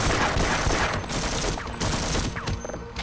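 Sustained machine gun fire in the 1999 shooter Half-Life: Opposing Force, a dense, loud continuous burst of rapid shots with no talking.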